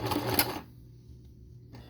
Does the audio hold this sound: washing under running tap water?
no